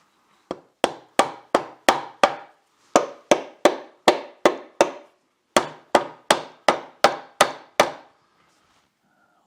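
A light hammer taps repeatedly on a part of a 1983 Evinrude 50hp outboard motor during water pump and skeg repair, about twenty crisp close knocks in short bursts, with brief pauses between groups.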